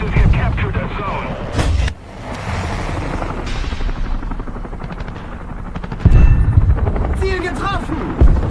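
An attack helicopter in a combat video game drones with a loud, steady rotor roar, overlaid by bursts of gunfire and explosions, with voices speaking over the action.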